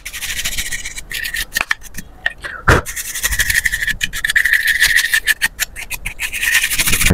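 A cloth wipes the cover of an HP LaserJet Enterprise M612 printer with steady, close rubbing strokes that repeat continuously, broken by a few brief pauses and a soft knock partway through.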